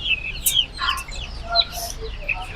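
One-month-old Misri farm chickens at a poultry seller give short, high clucks and chirps in scattered bursts over a low, steady background rumble.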